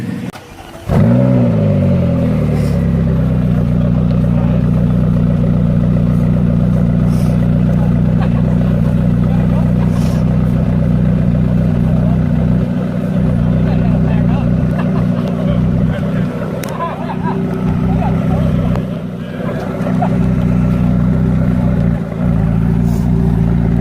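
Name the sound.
supercharged Aston Martin V8 Vantage engine pulling away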